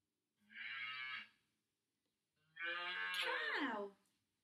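A cow moos twice, a short low call followed by a longer, louder one with a rising, strained ending, clear and alone against silence.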